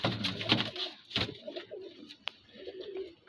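Pigeons coo softly at close range on a rooftop, a few low throaty calls with a brief rustle and chirp between them.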